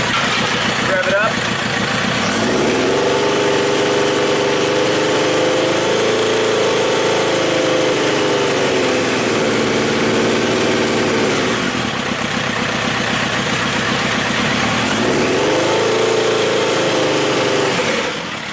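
A 1999 Triumph Trophy 1200 motorcycle engine runs loud and close, revving up twice in long swells that rise, hold and fall back toward idle, with a steady mechanical drone throughout.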